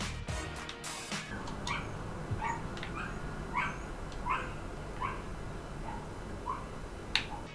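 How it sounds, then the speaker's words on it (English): Small dog yapping out in the street, a string of sharp high barks spaced about once a second, moderately distant under steady background noise with no talk. "There is one dog in our street that just yaps the whole time it goes on a walk."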